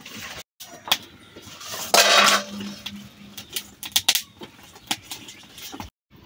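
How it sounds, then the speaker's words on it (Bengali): A clay cake pot for goat's milk bibika pitha is set onto a clay stove over heated sand. A short scraping clatter is followed by scattered light knocks and clinks, close and fairly quiet, with no voices. "গরম করে আমার পিঠার হাঁড়িটা এইভাবে চুলার উপরে দিয়ে কলা পাতা দিয়ে ঢেকে"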